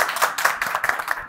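Several children clap together in a loud, steady burst of applause at an orphanage in Baghdad's Adhamiya district, the claps dense and overlapping close by without any talk.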